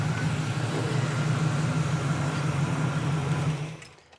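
A 1969 Camaro with a small-block Chevy 350 and headers idles with a steady low rumble, close and even for several seconds before the engine is shut off and the sound drops away.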